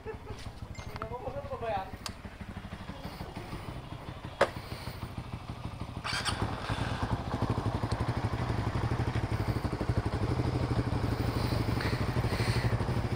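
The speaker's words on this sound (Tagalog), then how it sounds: "Sarap ng motor, oh." A tuned motorcycle fitted with an NK fullstand ECU runs with a steady low engine rumble that grows slightly louder midway, while people talk nearby.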